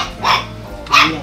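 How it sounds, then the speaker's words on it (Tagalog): A dog barks twice, loud and close, the two barks about half a second apart with low background noise between them. "pagka kumakahol si Panda, pag kumakahol si Panda o kaya si Bagsik"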